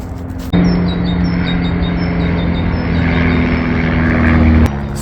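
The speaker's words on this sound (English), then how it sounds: "So much plane activity today." A steady propeller plane drone fills the air continuously, fairly loud and overhead, with a faint high whine riding on top and no voices.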